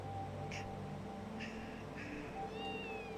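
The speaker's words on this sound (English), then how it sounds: "A cat?" A cat meows a few times in the video game Legend of Heroes: Trails in Zero, short high calls and a rising mew over a steady background music bed, faint and brief.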